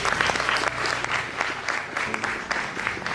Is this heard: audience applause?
yes